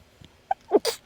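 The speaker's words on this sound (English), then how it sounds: "That sneeze just kind of crept up on me." A person sneezes abruptly while working with quilting fabric strips, a sharp intake followed by one close, loud burst, alone with no talking.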